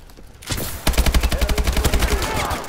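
Automatic gunfire in Call of Duty: Advanced Warfare, a loud, rapid burst of evenly spaced shots fired close by, with no talk over it.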